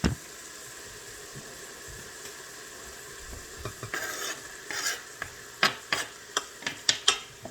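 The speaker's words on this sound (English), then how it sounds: "So I'm just going to put our onions in." Onions go into a hot pot for soup and start to sizzle, with a quiet frying hiss building and a run of distinct stirring scrapes and clacks in the later half, fairly close, with no talking.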